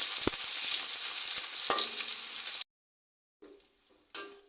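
Onions frying lightly in hot oil in a wok, a loud continuous sizzle with a couple of sharp knocks, then sudden silence followed by faint stirring bursts.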